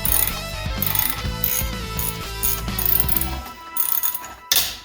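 A hand ratchet works loose the heat shield bolts on the exhaust manifold of a Dodge Charger SXT 3.5L, sounding as rapid close-up clicking bursts in quick runs, with a brief clank near the end.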